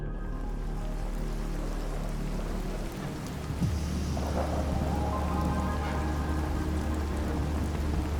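Heavy stormy rain pours steadily on the way to Adam's Peak in Sri Lanka, with deep rolling thunder rumbling underneath, a continuous loud wash with no voices.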